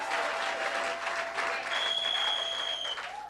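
Church congregation applauding during a deliverance service, dense continuous clapping that fills the space at a steady, loud level for a few seconds, with a faint whistle-like tone rising above it.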